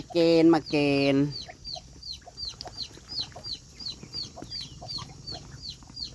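A hen gives two loud drawn-out calls up close, then settles into a steady run of soft, rhythmic clucks with other faint bird chirps around.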